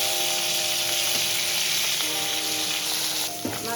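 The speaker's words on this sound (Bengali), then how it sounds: "মাছটা ভাজা হয়ে গেছে প্রায়" Shingi fish fries in hot oil in a kadai, giving a steady, loud, close sizzle and crackle throughout, with a brief stirring or turning disturbance near the end.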